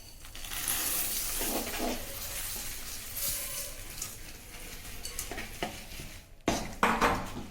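Spoon stirring seeds into hot sugar syrup for an energy bar, soft scraping and sticky sizzling with occasional clinks against the pan, quiet and close.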